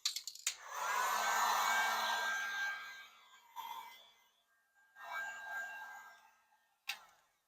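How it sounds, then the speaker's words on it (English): A heat gun blows hot air to dry paint on brake calipers of a BMW 3 Series, running in a steady loud whirring burst for about three seconds, then shorter bursts separated by quiet pauses. "I use a heat gun in between, letting each layer dry."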